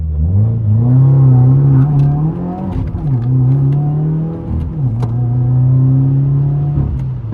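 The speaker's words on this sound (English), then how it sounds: "We'll do a quick little 0 to 60 on this stretch of road right here." A 2020 Subaru WRX accelerating from a standstill to 60 mph on an open road, its engine revving loud and close from inside the car, pitch climbing steadily with brief dips at each gear shift and no talk.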